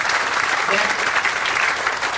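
An audience at a comedy banjo show bursts into sustained applause, a dense, steady wash of clapping hands that holds at an even level for the whole stretch.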